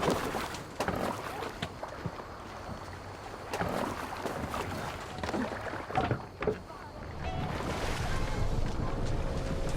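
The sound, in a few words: boat on water in video game Assassin's Creed Valhalla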